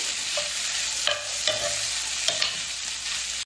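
Chicken kachori filling with cubed capsicum stirred in a hot pan, a continuous sizzle with several distinct spoon scrapes and clinks against the pan, no voices.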